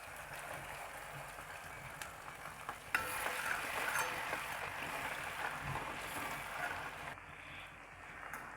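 Ginger garlic paste frying with cumin seeds in a pan while cooking ragda for street-style chaat, giving a steady, fairly loud sizzle that runs unbroken through the whole stretch with no voices.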